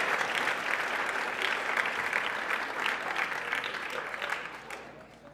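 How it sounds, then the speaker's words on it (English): Audience applause fills a lunchtime career panel event, a dense, steady wash of many hands clapping at close range that holds strong for about five seconds before tapering off at the end. "Let's give our career panel a big round of applause."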